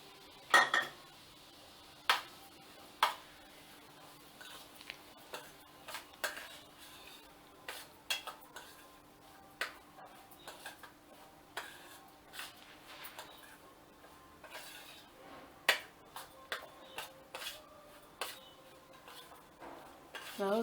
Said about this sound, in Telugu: రవ్వ వేసుకొని బాగా కలుపుకుంటూ ఉండాలి.